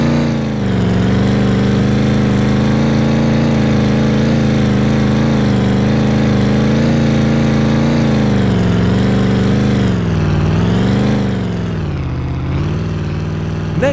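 A truck engine drives along an off-road trail in the video game Off Roading Epic, with a loud, steady mid-pitched drone that rises and dips gently as the load changes and continues throughout with no talk.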